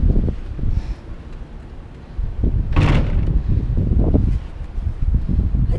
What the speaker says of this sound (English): It's probably windy.